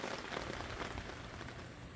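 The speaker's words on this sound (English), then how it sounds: "And it's raining again." Steady rain patters on surfaces at a campsite during a brief afternoon thunderstorm, a dense, even hiss holding at moderate level throughout with no talk.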